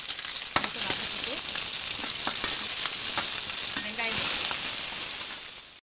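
Green and dried red chillies sauté in hot oil, with fennel and cumin seeds already fried, for a spinach and lentil dish. A loud, continuous frying crackle with stirring scrapes and taps runs throughout.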